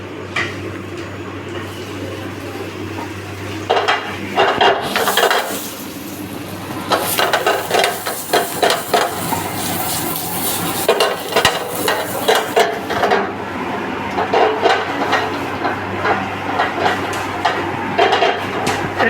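Vegetables for a Mexican quesadilla fry and get stirred in a pan, with steady sizzling broken by bursts of scraping and clattering against the pan, loud and close, no talk.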